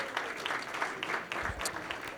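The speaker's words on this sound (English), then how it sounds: "let's give them all a big round of applause" Applause from the audience at a San Gabriel Valley legislative networking reception: dense, steady clapping from many hands, fairly close and sustained throughout with no talk over it.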